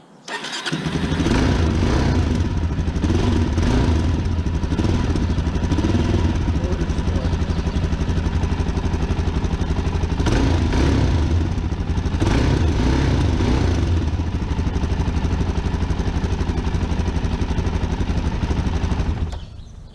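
A 2021 Suzuki DRZ400SM motorcycle's single-cylinder engine runs loud and close for the whole stretch, a steady buzzing drone with a couple of brief revs rising and falling.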